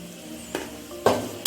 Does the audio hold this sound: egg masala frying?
yes